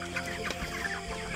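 Broiler chickens raised for slaughter cluck and murmur close by in a brief, busy burst of overlapping soft calls, with no talk.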